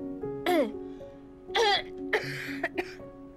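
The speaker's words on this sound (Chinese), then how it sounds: "你干嘛一直咳嗽啊？" A person coughs and clears their throat several times indoors, close by: two harsh voiced bursts followed by a cluster of short, sharp coughs, with no other talk.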